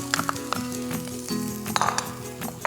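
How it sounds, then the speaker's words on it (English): Chopped onions, carrots and browned fideo sauté in a hot pan, a close steady sizzle with occasional utensil clinks and scraping as they are stirred, and no voices. "And I saute this for a minute or two until the vegetables begin to soften."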